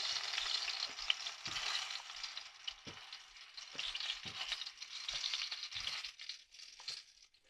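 Zucchini slices fry in hot oil in a pan, a dense, continuous crackling sizzle with soft low thumps as pieces are moved, fairly quiet and with no talking.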